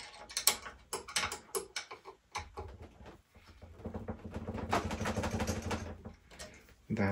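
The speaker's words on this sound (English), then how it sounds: "Now we are going to finally secure these nuts" Nuts on a Ninebot Max scooter's Monorim MD-MXR1 rear brake adapter being tightened, heard as a run of close metallic ratcheting clicks and clanks in bursts, with a longer steady stretch of turning in the middle.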